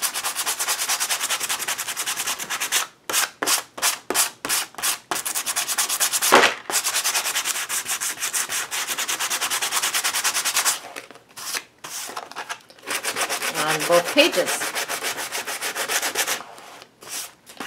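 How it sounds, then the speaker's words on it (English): Rhythmic abrasive rubbing of a sanding block over painted paper, close and loud, in bursts of quick strokes with short pauses; a brief spoken remark partway through. "I'm going to go in and rip it up a little bit with my sanding block."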